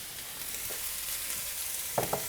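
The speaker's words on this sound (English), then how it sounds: "I'm going to put my Swiss chard leaves in here." Swiss chard leaves sizzling in a pan for a frittata: a soft, steady hiss with a few light clinks of a utensil near the end.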